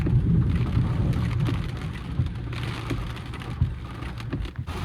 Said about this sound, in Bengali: বৃষ্টি প্রচুর বৃষ্টি হচ্ছে